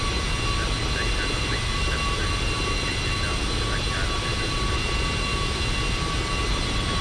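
Continuous jet engine drone from a Cessna Citation II in the X-Plane 11 flight simulator, steady and loud with faint tonal whines and soft radio-like chirps above the roar.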